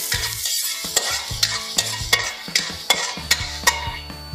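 Onion fries in a little oil in a hot pan: a soft sizzle runs underneath while a spatula strikes and scrapes the pan in a quick, regular rhythm of sharp clacks.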